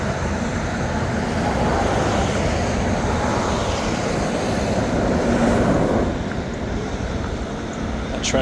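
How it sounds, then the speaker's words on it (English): A truck rumbles past close below a bridge in Eagles Landing, suburban Atlanta, a loud broadband roar that holds steady and then drops off abruptly near the end. "Truck sounded really cool going underneath us."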